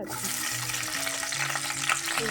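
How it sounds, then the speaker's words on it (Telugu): Green chillies fry in hot oil, a steady dense crackling sizzle running close and loud throughout with faint low tonal hums beneath. "ఆయిల్ వీటెక్కింది కదండి, దాంట్లో మనం ముందు పచ్చిమిర్చిని వేసుకుందాం."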